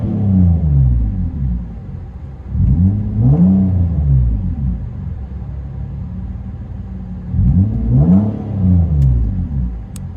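A 2014 Nissan Maxima 3.5L V6 with dual exhaust, a Y-pipe, a Vibrant resonator and a muffler delete, heard from inside the car, revs twice, deep booming rises falling back to a loud rumbling idle between.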